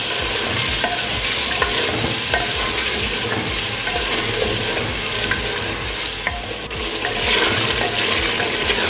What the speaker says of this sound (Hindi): और दही का पानी खुश्क होने तक इसे पकाएंगे।